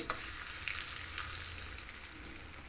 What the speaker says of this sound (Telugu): ఇందులో కూడా నేను కొంచెం పొడింగు వేసుకున్నాను వేగిపోయి ఆపేస్తున్నాను